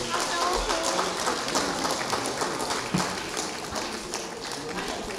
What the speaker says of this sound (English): Can we all give them a round of applause, please?